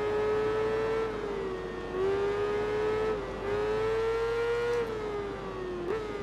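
A racing motorcycle engine from the Tourist Trophy video game whines at high revs with a steady tone that dips and rises through gear changes and throttle shifts, loud and continuous.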